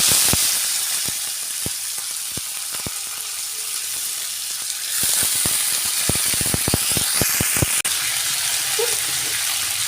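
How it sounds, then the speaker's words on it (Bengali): Tomatoes sizzle in hot oil with panch phoron and fried chillies, a steady loud broadband frying hiss with frequent sharp pops and crackles spattering throughout, no voices. "তেলটা গরম হয়ে গিয়েছে পাঁচ ফোড়ন লঙ্কা ভাজা হয়ে গেছে আমি এরপর টমেটোগুলো দিয়ে"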